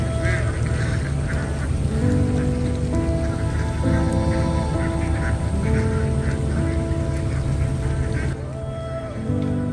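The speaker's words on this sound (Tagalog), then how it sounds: "Ayan, nag-ulan." Light rain falls steadily across a constant wash of patter, with ducks quacking and a low hum in the background.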